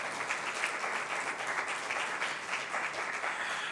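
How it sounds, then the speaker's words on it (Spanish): A church congregation claps together in steady, dense applause that carries on evenly throughout, with no voices rising above it. "Denle una ofrenda de palmas a nuestro amado Dios"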